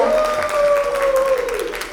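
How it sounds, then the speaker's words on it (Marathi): Guests clap at a wedding sangeet ceremony, a steady patter of many hands kept up under a long held amplified voice for a couple of seconds. "जोरदार टाळ्या."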